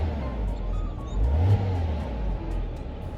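A 2002 Porsche Boxster engine idles close by, then gets a brief, mild rev near the middle and settles back into a steady low running drone, with no talk.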